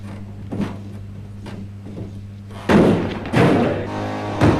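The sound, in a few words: two-man ram striking a multi-point locking security door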